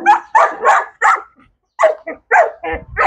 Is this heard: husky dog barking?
yes